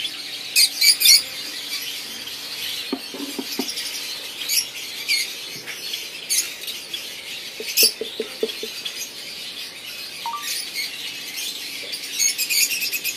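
Lovebird chicks in breeding boxes at a bird breeding farm give scattered, faint high squeaky chirps and calls, some in short clustered bursts, with no talking.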